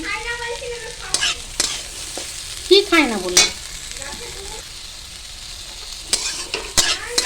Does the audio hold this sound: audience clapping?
no